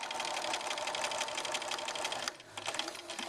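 Sewing machine stitching down a lapped zip to the end, a steady, fast, close whirring of needle strokes that stops briefly near the end and then resumes more softly.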